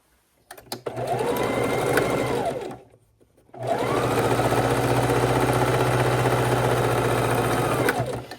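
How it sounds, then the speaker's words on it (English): A sewing machine stitches across white fabric in two steady runs of mechanical whirring, a short pause between them, loud and close with no talking. "So I've sewn across the white fabric."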